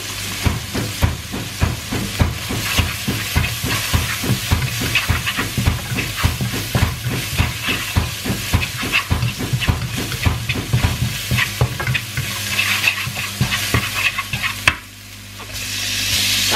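Nasi goreng with onions frying in a wok over high heat, a loud steady sizzle broken by rapid rhythmic scraping and stirring strokes, close up, easing off near the end, with no talk.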